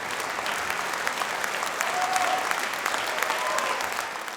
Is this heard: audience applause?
yes